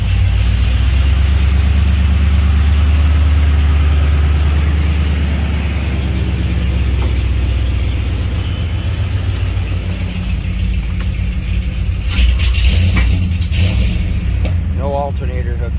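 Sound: car engine idling while burning oil off the headers

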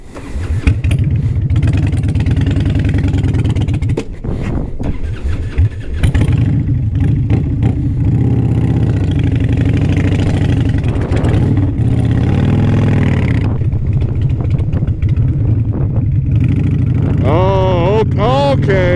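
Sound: Harley-Davidson motorcycle engine revving while riding

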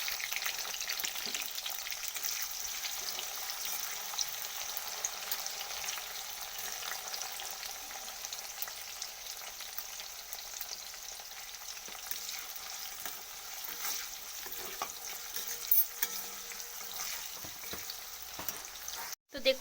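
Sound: cauliflower frying in a pan

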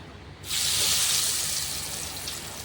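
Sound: laddu dough pieces dropped into hot oil, frying

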